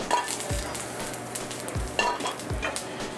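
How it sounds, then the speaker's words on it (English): Mushrooms sautéing in a hot pan, a steady close sizzle punctuated by three dull knocks of a spoon or pan being moved, with no speech. "I'm gonna put a quick little saute on the mushrooms."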